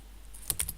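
Computer keyboard keys are struck while working in the Vim text editor, giving a few crisp, close clicks in an uneven rhythm with quiet gaps between them and no voice.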